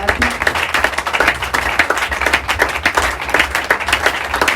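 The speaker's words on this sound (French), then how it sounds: "Donne-lui simplement une offrande d'acclamation." Church congregation clapping as an offering of acclaim, loud steady hand claps layered with voices and a low rumbling background throughout.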